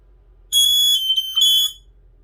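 A Fyrnetics 1235 smoke alarm sounds during its test, a loud, piercing electronic tone starting abruptly, holding steady with a brief break near the middle, then stopping, with no talk.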